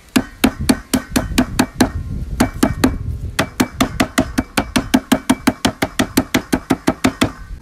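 Knife chopping folded scallion on a cutting board for Jamaican red peas soup, a steady fast run of loud, crisp, evenly spaced thuds with one brief pause.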